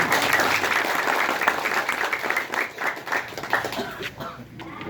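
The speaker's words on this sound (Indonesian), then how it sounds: "Tepuk tangan dulu buat Kak Romansa." An audience at a regional council outreach meeting in a village hall claps and applauds steadily for several seconds, dense and fairly close, fading slightly toward the end, with a voice faintly underneath.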